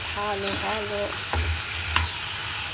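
Food stirred in a pan at home, heard as scraping and sizzling under a steady low hiss, with a short musical tone and faint voices in the background.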